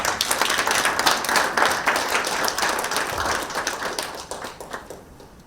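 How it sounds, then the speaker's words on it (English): A large audience applauds for the Director at a strategy launch event, steady dense clapping for several seconds that thins and fades toward the end. "Please, let's give the Director another clap."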